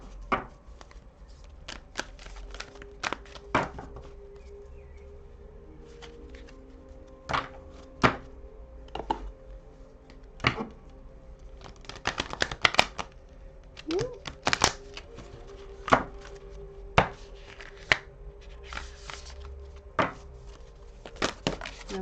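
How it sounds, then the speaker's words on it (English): Cards shuffled by hand at a table during a card reading: intermittent sharp taps and riffling flurries spread across the stretch, close and fairly loud, with quiet gaps and faint background hum between bursts. "Let's see if we can get the shuffle."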